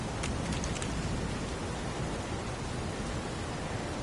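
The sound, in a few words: pouring rain in a video game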